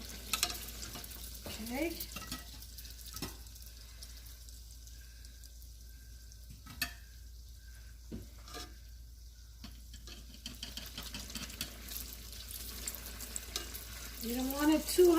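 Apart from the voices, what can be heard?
doughnuts frying gently in oil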